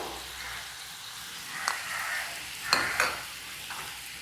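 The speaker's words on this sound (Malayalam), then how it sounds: "ക്യാപ്സിക്കം, ഇതെല്ലാം കൂടി ഇട്ട് ഒന്ന് 2 മിനിറ്റ് ഒന്ന് സോട്ട് ചെയ്ത് കൊടുക്കാം" Peas, potato and capsicum for pav bhaji sauté in a hot pan, giving a soft continuous sizzle with a few scraping stirs of a spatula, close and fairly quiet, with no talking.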